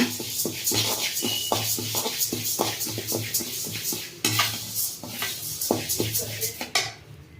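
Urad dal, 200 grams, dry-roasted in a pan after green gram for sambar powder, stirred with a metal spatula that scrapes and clinks steadily against the pan, with a faint sizzle under the close, busy strokes.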